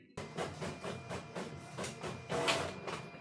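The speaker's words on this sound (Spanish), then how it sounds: "la impresora está funcionando perfectamente" A Canon G3170 inkjet printer runs a test page, giving a steady, rhythmic mechanical chatter of repeated clicking passes with a soft whirring hiss underneath, close by and without any talk.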